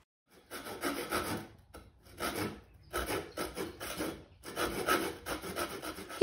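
Wood pieces for a nightstand ladder are worked with a rasping, back-and-forth stroke in short bursts separated by brief pauses, close and moderately loud.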